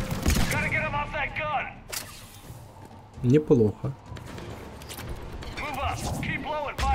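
Several sharp gunshot bursts crack out at intervals in Mass Effect 3, mixed with game effects, while people talk throughout.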